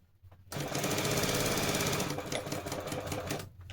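A sewing machine stitches a long seam on a girl's pleated pant. It starts with a loud, steady, rapid whirring about half a second in and runs almost to the end, with no talking.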